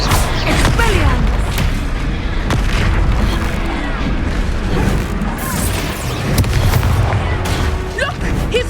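The Expelliarmus disarming spell is cast during a battle in the video game Hogwarts Legacy, with loud magical booms and crashing impacts over continuous combat noise.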